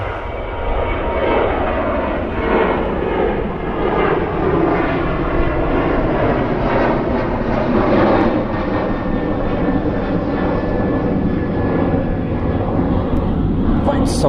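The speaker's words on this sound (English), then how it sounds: "So there goes a Ryanair" A Ryanair jet airliner takes off at Manchester Airport, a loud, steady roar of jet engines that holds strong throughout, with a person talking over it.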